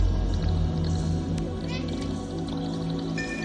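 A cat meowing in a video game trailer, several short mews over a steady bed of music and ambient game sound, moderately close but not loud.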